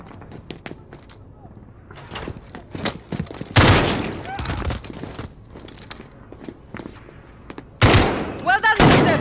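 Gunfire during an ambush in Call of Duty: Modern Warfare, with scattered shots and footsteps followed by two loud bursts of rapid fire, while voices talk in between.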